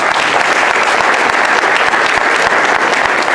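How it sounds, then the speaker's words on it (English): Loud, close, continuous applause from a large audience at a Knanaya Region tenth-anniversary gathering, honouring a community leader; many hands clap steadily with distinct near claps standing out. "we need to give a special applause and appreciation"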